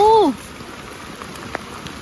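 Heavy rain falls outdoors over open fields in a steady, even patter, with a brief voice at the start and a few louder drops.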